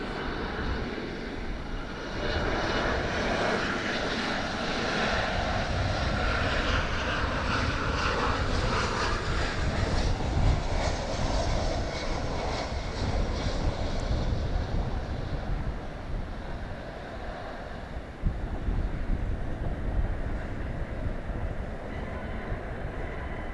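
An American Airlines jet in oneworld livery lands on runway 13 right at DFW, its engines roaring loud and broadband for over twenty seconds, swelling and then easing with a rumbling rush as it rolls by.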